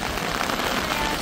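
Steady rain falling in Japan near a small street market, a dense continuous hiss throughout with no voices.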